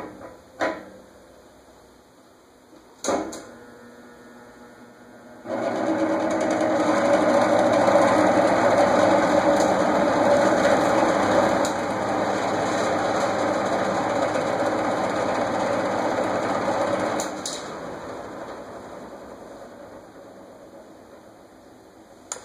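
A Toastmaster 20-inch box fan with unbalanced blades switches on after a few clicks and runs with a loud, steady motor hum and airy whoosh for about twelve seconds, then shifts down and winds off.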